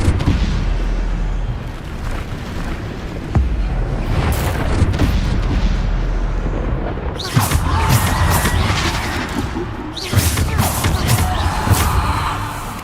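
Repeated Bombarda spell blasts in Hogwarts Legacy, heavy booming explosions with crashing debris landing in loud bursts over a rumbling game soundscape, sharper blasts near the middle and end.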